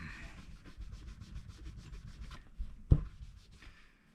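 Guitar frets being rubbed down for polishing give a quiet, close, rhythmic scrubbing with short strokes, broken by a brief sharp knock near the end.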